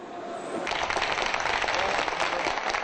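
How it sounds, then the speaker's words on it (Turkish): Lawyers gathered inside a courthouse applauding and chanting in protest, quiet murmur giving way to a sudden burst of dense clapping and voices that stays steady and somewhat distant. "Adliye içinde toplanan avukatlar alkışlar ve sloganlar eşliğinde dışarı çıktı."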